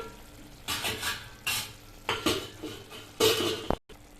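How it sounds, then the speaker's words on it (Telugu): Pots and utensils clatter around a pan of ragi upma cooking on low heat, with four loud scraping and clinking bursts and a final sharp knock as a lid settles, followed by a brief hush; no one speaks. "ఇది సిమ్లో పెట్టి మూత పెడుతున్నామండి"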